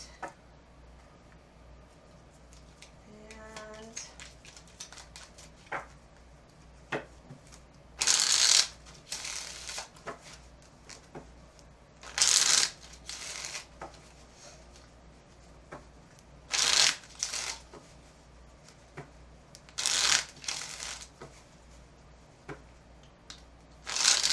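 Several bursts of card shuffling, each a quick crisp riffle a second or so long, separated by quiet pauses with faint handling noises.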